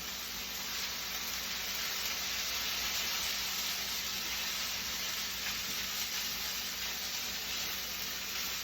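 Potato and onion fry steadily in a pan for a Spanish tortilla, giving a constant, even sizzle and hiss at moderate level with no talk over it.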